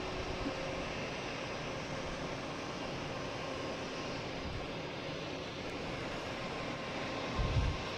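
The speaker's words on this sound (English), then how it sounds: "next taking off is a Delta, flight 2234, heading to Tampa, the land of Betsy and Eric. 737-800." A Delta Boeing 737-800 airliner takes off, its steady broadband jet roar holding at a constant distance throughout, with a brief low rumble swelling near the end.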